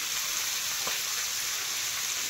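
Food fries in a hot pan until reddened, giving a close, continuous, even sizzle and crackle with no talk.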